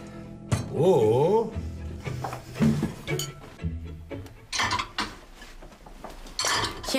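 Plates and cutlery clatter as dishes are cleared from a family table in a Greek TV comedy, several sharp clinks and scrapes scattered among people talking.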